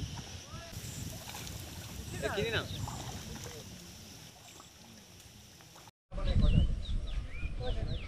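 Oars pulling a rowboat through water outdoors, soft splashing and watery wash under steady wind noise, with birds calling and a voice talking at times; a brief dropout interrupts before the sound resumes louder.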